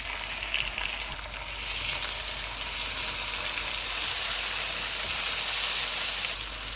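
Ginger-garlic paste and tomatoes fry in a pan for vegetable pulao, giving a steady close sizzle that swells partway through and holds loud and even before easing near the end, with no talk.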